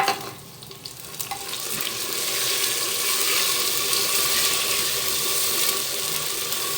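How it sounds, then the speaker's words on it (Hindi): Ginger and garlic hit golden brown onions in hot oil, giving a steady, moderately loud close sizzle that swells after a brief quieter start, with faint stirring and no talk. "अब मैं इसके अंदर डालूँगी अदरक लहसुन। अदरक लहसुन डाल देना है।"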